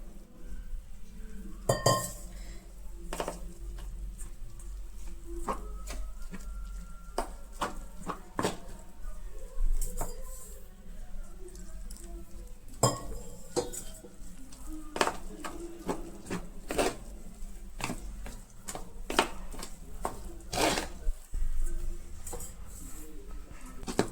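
A spoon clinks and scrapes against a bowl while gram flour is mixed with water into a batter for besan veg cutlets, with irregular close taps and soft stirring sounds and no talking.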